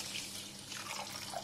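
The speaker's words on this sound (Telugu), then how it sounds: "ఇదిగోండి 1 గ్లాస్ వాటర్ పోస్తున్నాను." Water poured from a glass into a vessel for sugar syrup when making rasgullas, a steady, quiet trickling stream that runs for about a second and a half with no talking.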